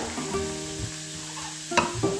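Frozen yellow and green bell peppers fry with carrots in a hot pan, a loud continuous sizzle with a low hum beneath and a couple of sharper crackling bursts near the end.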